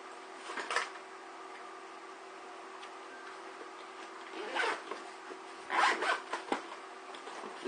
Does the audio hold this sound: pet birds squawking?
no